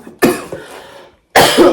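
A person coughs in two bursts, a near, sharp cough followed by a shorter tail, then a pause and another loud cough, with no talk.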